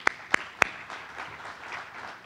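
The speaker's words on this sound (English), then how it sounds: "So give them a round of applause." At a conference panel on domestic violence, three sharp, close claps ring out in quick succession, followed by faint, distant applause from the audience trailing off quietly.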